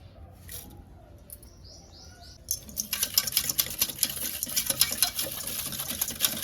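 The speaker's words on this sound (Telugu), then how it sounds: "ఇట్లా మొత్తము బీట్ చేసుకోవాలి" Buttermilk whisked for majjiga charu, a rapid rattling, splashy beating that starts abruptly after a quieter stretch and continues close and steady, with faint chirping in the background beforehand.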